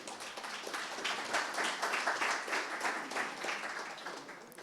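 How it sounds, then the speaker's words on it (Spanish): Audience applause for a university rector at a book launch event, a steady patter of many hands clapping at moderate volume from across the room, with no voices over it. "Un aplauso para él."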